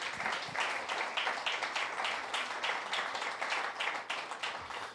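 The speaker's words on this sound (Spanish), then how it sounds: "¿No le das un aplauso a Dios en eso?" A church congregation claps and applauds together, a dense run of hand claps at moderate volume that holds steady for several seconds before tapering.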